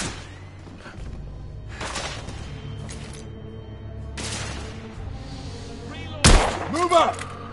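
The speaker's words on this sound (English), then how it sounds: "I'm taking suppressing fire!" Gunfire in the Victorian-era shooter The Order: 1886, scattered single shots and short bursts with dull thuds, then a loud sharp blast near the end, over a low rumbling backdrop with voices.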